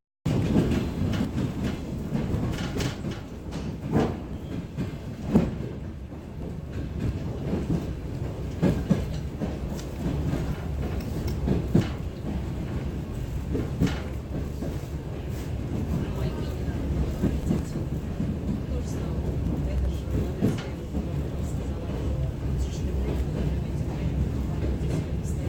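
ER9M electric commuter train running along the rails, with steady rhythmic wheel clatter over a continuous low rumble throughout, loud and close from inside the carriage.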